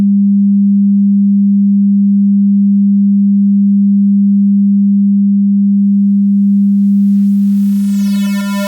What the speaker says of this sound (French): l'onde orange, qui, on le rappelle, est l'onde convertie en 16 bits sans dithering